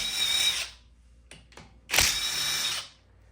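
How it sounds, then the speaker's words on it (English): A power tool spins off 17 mm brake caliper bolts in two loud close bursts of whirring, separated by a quieter gap with a few faint ratcheting clicks. "17 millimeter, take these two bolts off the caliper right here"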